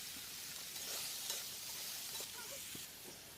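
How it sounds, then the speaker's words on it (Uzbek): Diced bell peppers and vegetables fry in a pan, giving a steady, quiet sizzle with occasional small stirring clinks and no talking. "yaxshilab qovurib olamiz"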